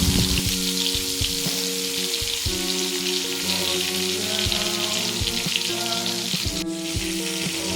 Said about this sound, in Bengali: পটলটাকে একদিকে ভাজা হয়ে গেলে আর একটা সাইড পাল্টিয়ে দেব